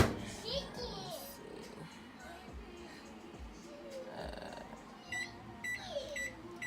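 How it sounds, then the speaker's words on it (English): A microwave oven heats vegetables with a low, steady hum under quiet household voices, then sounds a series of short, evenly spaced beeps near the end. "I'm just gonna pop those in the microwave right now."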